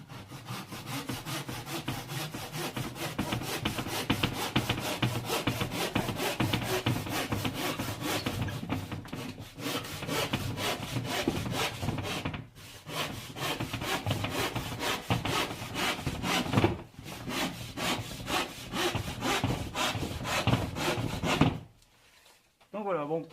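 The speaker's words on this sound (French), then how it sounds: "Donc je découpe à la scie Egoin" A hand saw rasps through wood in fast, regular back-and-forth strokes, close and loud, pausing briefly a couple of times before stopping.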